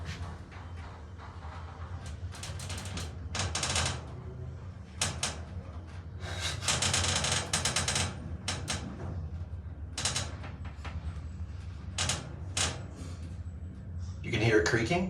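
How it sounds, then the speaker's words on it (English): Casado elevator at a Madrid hotel creaking and rattling as it runs, with repeated bursts of mechanical clatter and grinding alongside someone talking over it. "You can hear it creaking."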